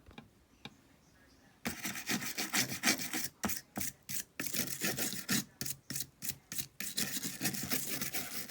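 Steady, close rubbing and scrubbing on the fuse relay junction box of a 2005 Kawasaki Vulcan 750, cleaned with rubbing alcohol; rhythmic back-and-forth strokes after a quiet start, with brief pauses between passes.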